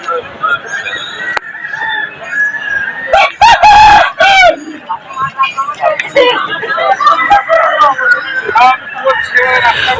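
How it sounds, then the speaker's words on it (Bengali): A fighter rooster at a busy rural chicken market crows loudly and nearby in one drawn-out call, while hens cluck and chatter of the market crowd runs throughout. "এই যে একটা ফাইটার মোরগ দেখতে পাচ্ছেন"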